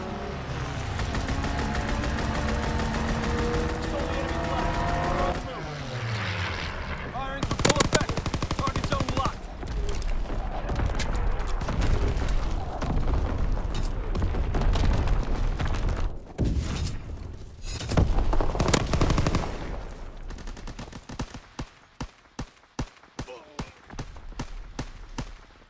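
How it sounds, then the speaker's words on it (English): Video game strafing run: rapid machine-gun fire and blasts in dense, loud bursts, easing into scattered sharp impacts near the end, with a voice speaking over the action. "Strafing run inbound."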